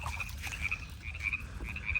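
Frogs croak steadily from bushes outdoors, a dense chorus of repeated rasping calls pulsing in overlapping rhythm, fairly close and continuous against a low background rumble.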